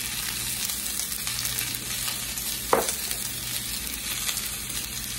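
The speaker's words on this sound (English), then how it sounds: "those onions smell good cooking in there." Potatoes and onions seasoned with garlic powder, salt and pepper frying in a pan on lowered heat, a dense even sizzle throughout with one brief utensil knock midway, close and without speech.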